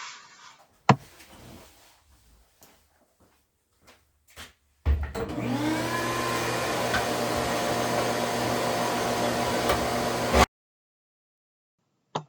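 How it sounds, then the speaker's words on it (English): Three workshop dust collectors run together in a woodworking shop, a loud steady broadband roar with a low hum that starts abruptly after scattered faint knocks and cuts off sharply near the end. "I have all three of my dust collectors running at the same time"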